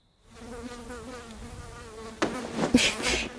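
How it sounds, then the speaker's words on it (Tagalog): Many flies buzz in a steady, wavering drone around a spot smelling of garbage, close and fairly loud, with sharper bursts of buzzing as one passes near. "Bakit ang daming langaw?"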